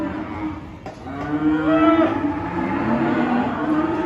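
Cattle low loudly and close by at a Moss Vale cattle sale, with one long sustained moo that swells and then fades against yard background noise.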